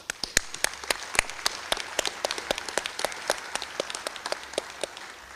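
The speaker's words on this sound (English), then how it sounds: "Please join me in a round of applause for them." Sparse, distinct handclaps from a small audience at an alumni honors award convocation, individual claps ringing out crisply in an irregular patter for several seconds.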